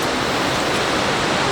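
A waterfall beside the Icefields Parkway in Alberta roars as a loud, steady broadband rush of falling water, close and continuous with no other sounds.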